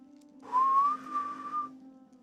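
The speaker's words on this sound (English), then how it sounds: "it's a very distant, faint, wailing whistle" A distant, wailing whistle from the fantasy game Altheya: The Dragon Empire. A single sustained tone rises slightly and holds for just over a second, alone above a quiet low hum.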